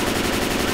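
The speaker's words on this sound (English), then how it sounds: "You're shooting at me, just keep shooting!" Rapid automatic gunfire from the Left 4 Dead 2 video game rattles continuously and loudly through the short moment, dense and unbroken.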